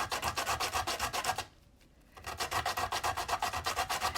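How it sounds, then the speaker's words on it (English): Sandpaper of 400 grit rubs back and forth over the edge of a hollow clay bead in quick, steady close-up strokes, pausing briefly midway before the scraping rhythm resumes. "And then I'm going to do it on a 400 sandpaper too."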